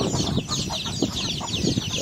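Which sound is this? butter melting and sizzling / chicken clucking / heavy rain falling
chicken clucking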